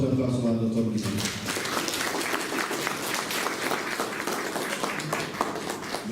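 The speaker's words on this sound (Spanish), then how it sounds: "Recibámoslo con un voto de aplauso al doctor Luis Sáenz." Audience applause at an evening law lecture, a brisk burst of clapping from a modest crowd, continuing steadily after a speaking voice fades out at the start.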